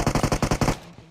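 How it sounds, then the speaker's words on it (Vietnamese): Automatic gunfire in PUBG Mobile, a loud, close burst of about eight rapid evenly spaced shots that stops abruptly and leaves a brief fading tail. "Nó mới nghe tiếng súng"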